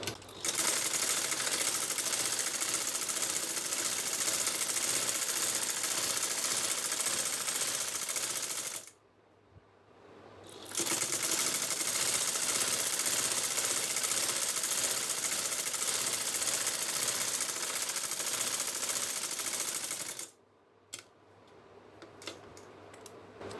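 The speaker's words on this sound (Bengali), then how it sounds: "আবার নিচ দিয়ে সাইড দিয়ে সেলাই করে নেবেন" A sewing machine stitches kameez fabric, its loud, fast, continuous mechanical whirr running in long bursts, with a brief pause near the middle and another break and stutter close to the end.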